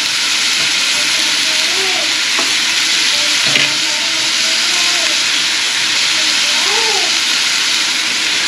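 Chopped onion frying in a pan alongside carrot and cabbage for a home-cooked dish, giving a steady loud sizzle with faint stirring scrapes and brief distant voice fragments.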